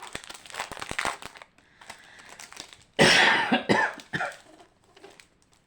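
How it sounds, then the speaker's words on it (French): Several sharp coughs in bursts, close to the mic, with crinkling handling noise and short pauses between fits. "je tousse encore"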